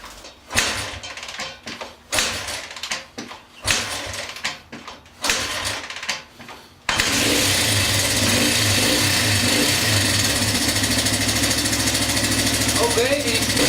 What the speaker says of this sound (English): Fire this thing up, see how it runs.